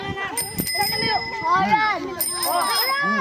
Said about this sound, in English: cycling bell